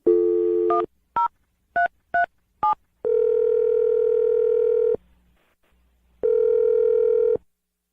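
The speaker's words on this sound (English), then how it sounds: "I'm going to dial Turtle's number here" A steady telephone dial tone, then a quick series of touch-tone dialing beeps, followed by long ringback tones with a pause between them.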